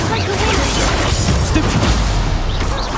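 Blasting spells in the Hogwarts Legacy video game, with loud booming crashes and fizzing bursts over a dense din of battle noise, heavy and close throughout.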